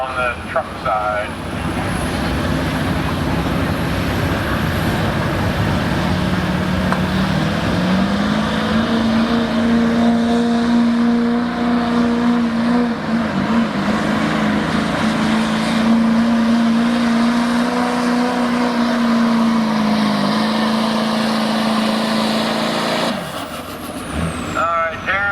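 A test truck at a truck-pulling competition roars under heavy load, its engine droning loud and steady with a rising, sustained pitch for over twenty seconds before backing off, while an announcer talks over it.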